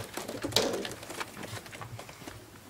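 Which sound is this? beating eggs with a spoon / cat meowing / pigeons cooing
pigeons cooing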